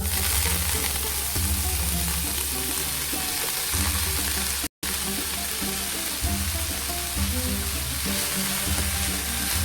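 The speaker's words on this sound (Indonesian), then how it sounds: "Sekarang kita akan tumis sayurannya ini. Nah, di sini saya sudah memanaskan minyak ya." Chopped vegetables sautéing in hot oil for Persian ash reshteh, a loud, constant close sizzle with some stirring, broken only by a split-second gap midway, with no talk.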